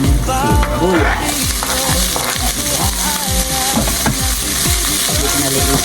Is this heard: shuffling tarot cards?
no